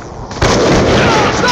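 A frag grenade detonates in a first-person shooter, a loud sudden broadband blast that lands after a quieter lead-in and holds as a sustained rumbling roar to the end.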